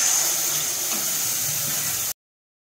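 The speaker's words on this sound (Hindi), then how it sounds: "मैं अब ये तैयार कर रही हूँ, मैं इसमें पानी डालूँगी।" Water poured into water chestnut flour halwa while cooking gives a steady, hissing, close stream that runs for about two seconds and then cuts off abruptly.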